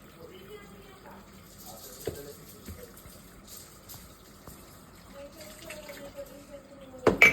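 A kitchen tap runs steadily while dishes are rinsed, a soft continuous stream of water with occasional clinks of crockery, building louder at the end, with people talking nearby.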